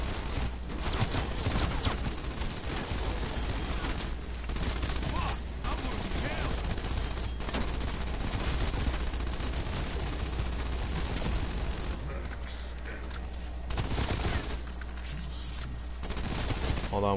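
Sustained automatic fire from a PPSh submachine gun in Cold War Zombies, with long rapid bursts broken by brief pauses, loud and close. Someone talks intermittently over the shooting.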